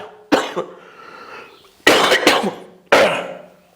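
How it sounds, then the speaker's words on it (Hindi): Three harsh, loud coughs, one alone and then two spaced bursts, each trailing off with a raspy throat sound. "खांसी आ जाता बच्चों, क्षमा प्रार्थी हूं"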